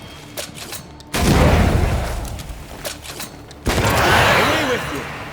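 Two heavy bursts of gunfire in the video game Banishers: Ghosts of New Eden. The first is a long loud volley and the second is a shorter blast, with quieter mechanical sounds between them.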